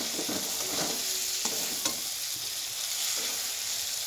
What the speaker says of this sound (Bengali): এবার ভালোভাবে সবগুলোকে মিক্স আপ করছি